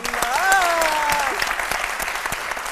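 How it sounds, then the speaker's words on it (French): A television studio audience applauds a guest's wedding news with dense, steady clapping, while a voice briefly cheers or calls out over it near the start. "J'aimerais qu'on applaudisse pour Lolo Diana"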